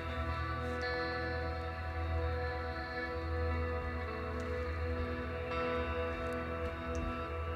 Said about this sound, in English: That is the sound of the moon and the earth frequencies with an orbital data put on it at azimuth